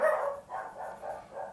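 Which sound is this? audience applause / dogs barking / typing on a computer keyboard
dogs barking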